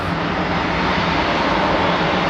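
Jet airliner climbing after takeoff at DFW airport, with a loud, steady broad engine roar that holds constant the whole time and no voices.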